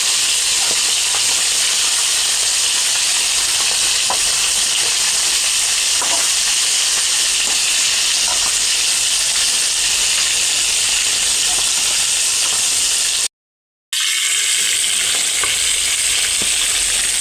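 Kanagantala fish frying in hot oil, a steady dense sizzle with occasional crackles that runs without a break and then cuts off briefly near the end before resuming.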